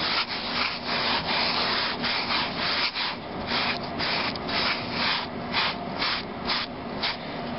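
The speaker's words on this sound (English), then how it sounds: "I'm going to rub it in, because I want it completely covering" Glitter rubbed by hand into a champagne bottle wedding favor: close, steady dry scrubbing strokes in a quick rhythm of repeated brushy swipes, with no voices.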